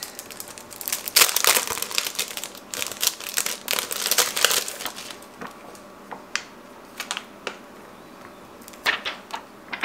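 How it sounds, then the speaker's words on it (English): A small plastic skincare pouch is torn open and handled close up, giving bursts of crisp crinkling and tearing that thin into sparse rustles and light clicks, no talking. "Let's open the next little pouch."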